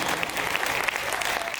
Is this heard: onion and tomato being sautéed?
no